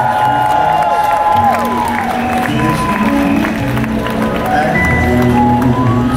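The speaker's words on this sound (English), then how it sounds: "Please give us a round of applause for these windows." A crowd outside a department store cheers, whoops and applauds a holiday window unveiling in a steady, loud roar, with music and voices mixed into the din throughout.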